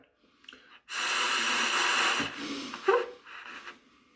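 A long, loud inhalation through the nose during a circular-breathing demonstration on trumpet, a sustained airy rush lasting over a second, followed by a few softer breathy sniffs close to the microphone.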